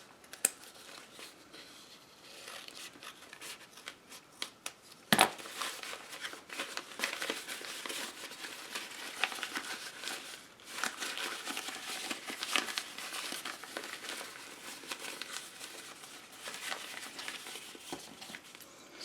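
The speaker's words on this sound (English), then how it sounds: "So I'm just cutting through 2 of the layers at a time." Scissors snip through two layers of ribbon at a time while a Christmas bow is shaped, giving soft crinkly cuts and rustles that run fairly steadily at close range, with one sharper snip standing out early on.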